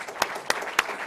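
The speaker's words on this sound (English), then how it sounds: "Let's give these folks a round of applause." Audience applause at the close of a conference session in a royal room: a short, steady patter of many hands clapping with a few sharper peaks, close and fairly loud.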